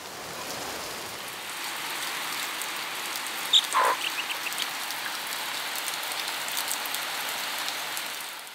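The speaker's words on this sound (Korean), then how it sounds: "아침부터 우기의 시작을 알리는 반가운 비가 내렸다." Steady rain at the start of the rainy season in rural Indonesia, a constant close hiss of drops hitting surfaces, with a brief bird call partway through.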